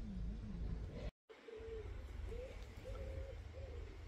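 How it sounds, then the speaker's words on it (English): Soft, low repeated coos drift in at a steady pace over a constant background hum, with a brief drop to silence near the start. "Can you hear that? Pigeons. hoo hoo hoo hoo hoo."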